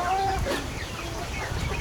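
Egyptian Fayoumi and native free-range chickens cluck steadily on a farm, several birds calling close by in a continuous, busy chorus with no talk.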